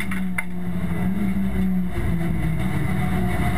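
VW Golf race car in a VW Cup race at Spa-Francorchamps, its engine droning steadily as it runs the outside line, a continuous mid-loud motor note with no voices.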